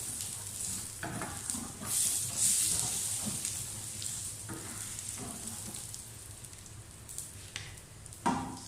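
Spices tempering in hot oil for chana dal, sizzling and crackling with a steady frying hiss, small pops and occasional stirring clinks, close by.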